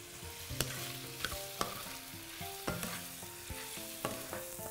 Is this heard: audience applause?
no